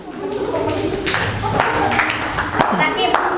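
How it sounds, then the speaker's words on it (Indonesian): Students in a classroom clap for a group after its presentation, a short burst of scattered hand claps mixed with overlapping children's voices and chatter, close and fairly loud. "Tepuk tangan untuk kelompok 2 ya."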